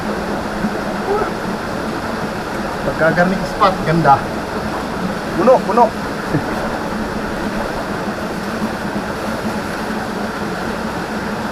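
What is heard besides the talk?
river water flowing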